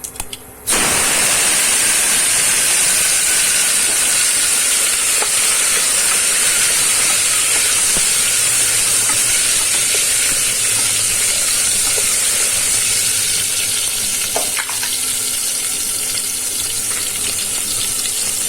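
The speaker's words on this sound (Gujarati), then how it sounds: "ત્યાર પછી આપણે ટમેટાનો વઘાર કરીશું" Chopped tomatoes go into hot tempering oil with cumin and asafoetida for a sweet potato curry. A loud, steady hiss bursts out all at once and carries on for many seconds, easing only slightly toward the end.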